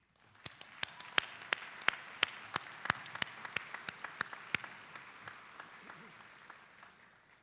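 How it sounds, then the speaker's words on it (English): Sparse, distinct handclaps at a medical school commencement honoring Ashbel Smith Distinguished Award recipients, a steady run of sharp individual claps that thins out and fades toward the end. "Please join me also in a final round of applause for our 2025 Ashbel Smith Distinguished Award recipients."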